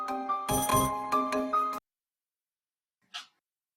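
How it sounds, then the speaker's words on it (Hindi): A phone's ringtone for an incoming call plays a bright melodic tune for under two seconds, then cuts off into silence, followed by a brief faint chirp. "किसकी कॉल आ रही है तुम्हारे पास?"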